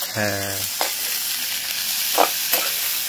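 Chopped onions fry in oil flavored from prawns, giving a close, steady sizzle broken by a few sharp spatula scrapes and clinks as they are stirred, with no one speaking.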